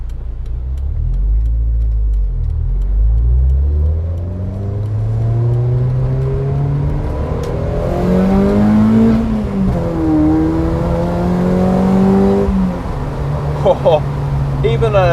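A Puma-engined Ford Fiesta track car accelerates hard on a wet day, its engine note rising loud and close through the gears with a brief dip at a shift before climbing again; someone talks over it.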